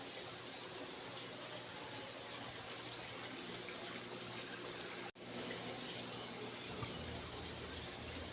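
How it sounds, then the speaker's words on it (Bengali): A decorative indoor fountain in a shop trickles steadily at a low, even level, with water splashing softly and continuously and one brief break midway. "দেখেন কি সুন্দর ঝর্ণা।"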